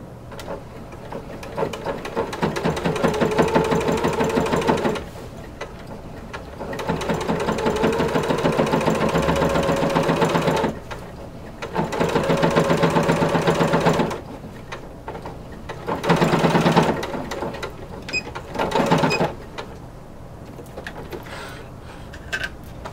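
A sewing machine stitches corset bone casing tape in several long, steady whirring runs, each stopping and restarting, with brief clicks of the machine in the pauses.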